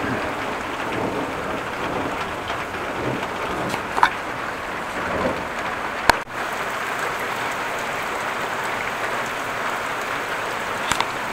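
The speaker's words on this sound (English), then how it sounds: "Now it's raining quite heavily." Heavy rain pouring down during a thunderstorm in Groningen, a dense steady hiss throughout, with a few sharp cracks and distant rumbles of thunder breaking through at moments.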